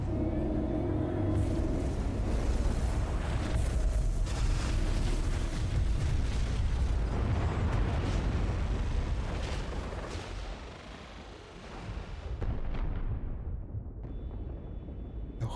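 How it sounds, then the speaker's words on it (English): Omni Cannon blasts destroying a starship fleet in the video game Star Wars: The Old Republic: a dense, continuous roar of heavy explosions and deep rumble that thins and fades toward the end. "Similar explosion sound to the exploding bombs in Star Wars Episode 2"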